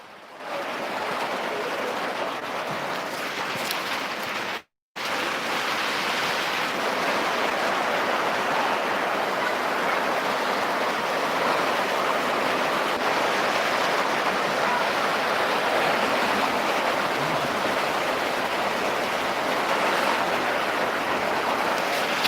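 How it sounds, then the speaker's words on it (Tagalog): Heavy rain pouring down in a steady, dense hiss that fills the whole clip, with one abrupt brief cut near five seconds before the downpour resumes unchanged. "Lakas ng ulan po dito."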